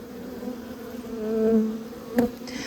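Honey bees buzz around an open beehive during a colony inspection, a close, wavering hum that swells and fades, with a brief sharp tap near the end and no talking.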